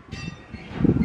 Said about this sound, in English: Oh, you rang the bell.